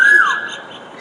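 A koel calling with a hoarse, cold-affected voice: one short, close, strained squawk with a falling whistle-like tone, then fading to quiet.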